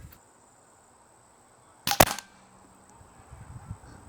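An air rifle fires a single Harpex pellet: one sharp, loud crack with a brief ringing tail in an otherwise quiet setting.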